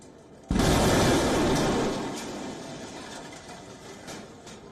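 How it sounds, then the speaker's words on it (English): A controlled explosion near St. Anthony's Church in Sri Lanka: one sudden loud boom that rumbles on, then fades slowly into a lingering roar with faint background noise, no voices. "an explosion was heard nearby, which is now confirmed that it was indeed a controlled explosion"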